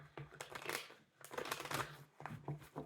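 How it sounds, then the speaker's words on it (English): Tarot cards being shuffled by hand, a few soft riffling bursts in quick succession at close range, quiet and alone. "One more shuffle."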